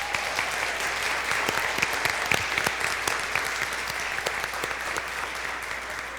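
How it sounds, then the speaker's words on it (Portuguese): A church congregation at a Sunday celebration service gives a round of applause, steady, close and fairly loud clapping that carries evenly throughout with no talking over it. "eu queria de verdade, irmãos, que você desse uma salva de palmas para esses irmãos."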